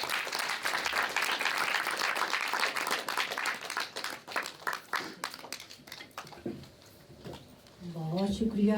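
An audience at a Punjabi event at Punjab Bhawan in Lahore claps in a sustained burst of applause that tapers off as a voice begins speaking over the hall.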